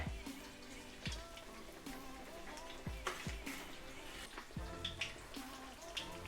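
Thai shrimp cakes sizzle and crackle quietly frying in hot oil over low heat, with occasional soft knocks and clinks of utensils against a small pan.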